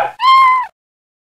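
A cartoon cat in the 1995 JumpStart 1st Grade educational game gives one clear, loud, drawn-out meow, preceded by a brief sound, then silence.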